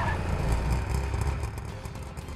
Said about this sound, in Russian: О, новый мопед.